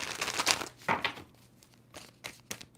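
Tarot cards being shuffled by hand, giving soft papery riffles and crinkly bursts in a few separate handfuls, close and fairly quiet.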